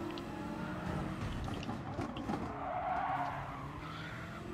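A race car in the video game Gran Turismo Sport brakes hard into a corner, tires skidding and squealing briefly over the engine's roar for a few seconds, no voices.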